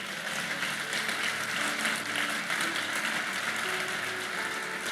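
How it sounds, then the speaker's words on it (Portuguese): A church congregation applauds during a Portuguese-language service, steady dense clapping throughout, fairly loud with a sustained organ or keyboard tone beneath it. "Aplauda o Senhor."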